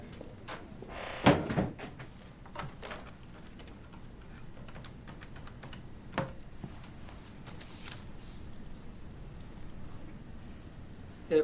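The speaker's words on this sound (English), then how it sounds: "And shut the door." A door closing with one firm knock-like thud early on, followed by quieter clicks and shuffling in an indoor room, fairly close.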